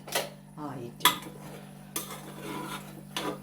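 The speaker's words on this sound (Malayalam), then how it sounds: "നമുക്ക് അവിയലിൻ്റെ മൂടി ഒന്നും കൂടി തുറന്നു നോക്കാം." Lid lifted from a pot of aviyal, a Kerala mixed-vegetable curry, a few metallic clinks and knocks of lid and utensils against the pot, close and fairly quiet over a low steady background hum.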